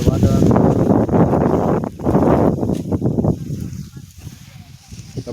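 Strong wind buffeting an outdoor microphone in farm fields at evening, a broad continuous roar that rises and falls in gusts, with talking heard over it for much of the clip.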